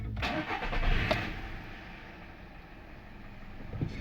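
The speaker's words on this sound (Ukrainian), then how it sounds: "Робимо запуск" A 2010 Volkswagen Golf 6 1.4 petrol MPI engine cranks briefly and catches, settling into a quiet, steady idle after a couple of seconds, with a faint click near the end.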